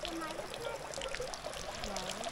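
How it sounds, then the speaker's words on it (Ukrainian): Iron-rich spring water trickling out from under a stone in the Carpathians near Skole: a soft, close pouring and burbling flow, faint overall, with a voice in the background. "І з-під такого каменю тече."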